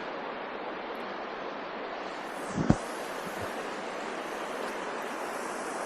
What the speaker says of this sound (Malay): Ni sungai dekat kawasan pegunungan Kalash